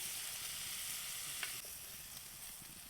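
Wild mushrooms fry in a pan with a soft, steady sizzle that stays faint and even throughout, broken by one small tap partway through.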